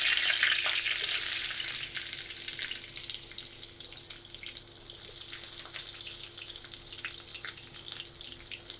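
A bay leaf drops into hot oil at the start of cooking bitter gourd with shrimp. A bright sizzling burst fills the first two seconds, then settles into a softer, steady crackle with no talk.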